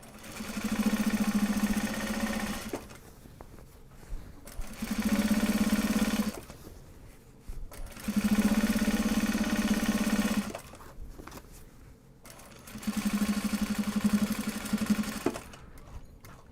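A sewing machine stitches Japanese fabric for project bags in four loud runs of rapid, even whirring, each a couple of seconds long and separated by short quiet pauses, close and without talking.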